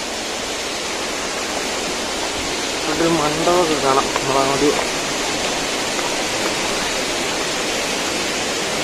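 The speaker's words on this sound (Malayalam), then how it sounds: "നമ്മൾ ഈ നടക്കുന്ന വഴി കൂടെ എല്ലാം ഇങ്ങനെ വെള്ളം ഒഴുകിക്കൊണ്ടിരിക്കുക" Palaruvi waterfall in Aryankavu, Thenmala, pours with a steady, loud broadband rush of water that runs under a brief stretch of talk from someone on the walking path.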